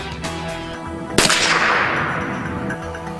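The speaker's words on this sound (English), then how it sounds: "Again, they're using the .22. Okay, I'm firing." A single loud .22 rifle gunshot fired at bullet-resistant material, a sharp broadband crack about a second in, followed by a lingering noisy decay over steady background hum.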